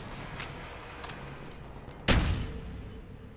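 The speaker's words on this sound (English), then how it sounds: "Ah, fucking explosive red barrels that I didn't fucking see." Explosive red barrels blow up in a video game with a single sudden loud boom whose rumble decays over about a second, after a stretch of low ambient noise with faint distant pops.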